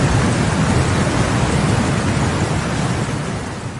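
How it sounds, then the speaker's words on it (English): Heavy rain pours down during the Beijing floods, a dense, loud and constant roar of downpour with a deep rumbling undertone. It eases slightly toward the end. "This was not just rain, it was a relentless downpour, battering streets, homes, and the entire infrastructure"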